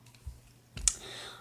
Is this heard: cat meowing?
no